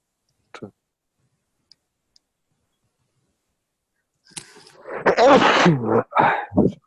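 A single close, sharp sneeze breaks a near-silent stretch, followed by a voice speaking nearby.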